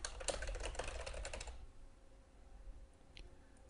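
Rapid clatter of keys on a computer keyboard as a login email address is entered, a dense run of clicks for about a second and a half, then quiet room tone with a faint stray click.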